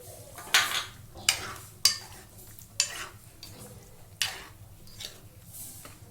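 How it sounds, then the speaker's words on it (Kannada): Paneer cubes are added to thick fried masala in a pan, heard as a series of sharp metal spoon clinks and taps against the pan with faint sizzling between them, without speech. "ಸೊ ಇದಕ್ಕೆ ನಾವು ಇವಾಗ ಪನ್ನೀರ್ ಹಾಕ್ಕೊಳ್ಳೋಣ."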